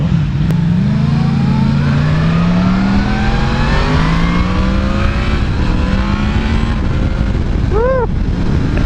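A 2018 Yamaha MT-10 motorcycle engine revs hard under acceleration, its pitch climbing steadily through the gears as the quick shifter snaps through upshifts, loud and close over constant wind roar.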